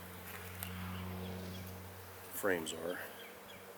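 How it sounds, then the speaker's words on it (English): Honeybees droning steadily around a tulip-tree beehive while its frames are worked, a continuous low hum throughout with someone talking briefly near the end. "pretty good little bit of bees on there just hanging out"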